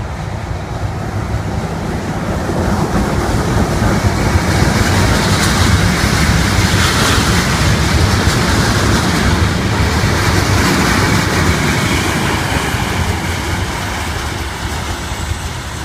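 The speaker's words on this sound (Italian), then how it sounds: "Attenzione! Treno in transito al binario 7." Train passing through Milano Lambrate station, a loud continuous rumble and rattle of wheels on rails that swells to a peak midway and slowly fades, with no talking.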